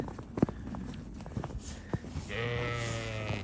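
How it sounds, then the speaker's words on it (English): A sheep bleats with a sustained, wavering call near the end, following scattered hoof and footstep sounds on a snowy farm in Cartmel, among Friesian cattle. "Oh, look, we've even got the sheep come to say hello."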